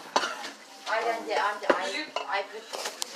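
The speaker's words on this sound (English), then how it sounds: "Just kind of stirring the meat around, letting it brown." A utensil scrapes and clanks against a pan while ground meat browns for sloppy joes, with repeated metallic stirring strokes, a faint sizzle, and someone talking over it.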